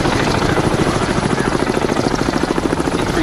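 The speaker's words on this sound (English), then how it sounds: "here comes that helicopter again." Helicopter in the submarine game Cold Waters, a steady rhythmic rotor chop with broad engine roar, loud and continuous as it passes overhead, with no speech.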